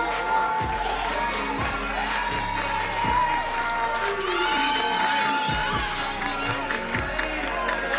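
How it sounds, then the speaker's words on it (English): A graduation audience cheers, whoops and shouts loudly, with a crowd roar filling the space and scattered applause throughout. "Give them one last round of applause."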